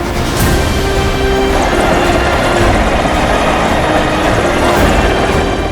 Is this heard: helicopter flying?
yes